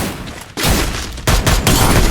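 Bursts of gunfire from a mobile shooter game, loud and dense, with a short volley followed by heavier sustained shooting after a brief pause.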